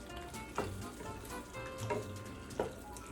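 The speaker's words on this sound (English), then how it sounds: "we're gonna let this simmer just a little more" Tomato pasta sauce with mozzarella bubbles and sizzles steadily in a pan, a constant close crackle with a few louder pops and spoon clinks, no voices.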